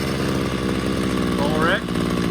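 Two-stroke engine of a Ryobi CS26 string trimmer idling with a steady rapid putter close by, briefly rising and dipping in pitch, while a person talks over it.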